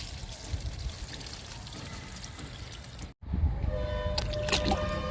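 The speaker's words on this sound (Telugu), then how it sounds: "వామ్ మొక్కకు లిక్విడ్ ఇస్తున్నాను" Liquid fertilizer poured onto a potted ajwain plant, a steady close trickle of liquid that cuts out briefly, then resumes with splashing and a few thin tonal rings.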